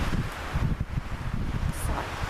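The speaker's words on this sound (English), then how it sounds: "I hope that you can hear me okay over this wind." Gusty wind buffets the microphone with low rumbling bursts, steady and close, with no one speaking.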